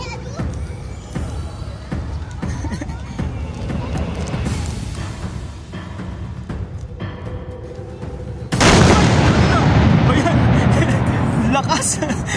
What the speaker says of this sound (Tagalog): Kanyon!